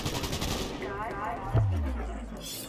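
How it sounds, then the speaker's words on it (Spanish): A burst of rapid gunfire rattles in Cyberpunk 2077 on Xbox One X, then a heavy low boom rolls out and fades, with busy background noise throughout. "Oigo tiros aquí."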